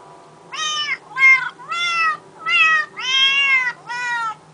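A cat translator app on a phone plays six loud, drawn-out synthetic meows one after another, each clear and close with short gaps between them, and no voices.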